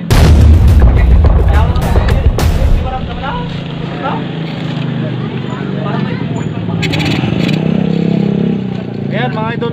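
A Honda Wave 100 motorcycle engine with a spark plug problem cranks with loud bangs, then settles into a close, steady idle while someone talks over it.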